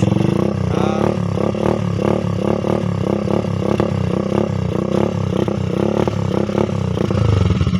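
A motorcycle fitted with an aftermarket exhaust pipe idles and blips its throttle in a steady run of loud, close revs for several seconds, with no talking over it.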